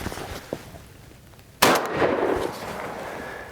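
A single sharp Beretta 1301 shotgun blast hitting a soda can outdoors, loud and sudden after a quiet lead-in, followed by a fading rumble.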